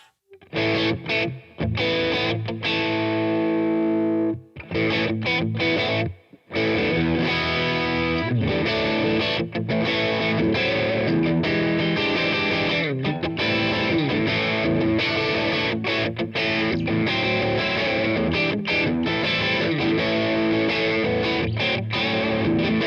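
Electric guitar played continuously through an amp with reverb, rich and jangly chords ringing out, with a few brief pauses near the start.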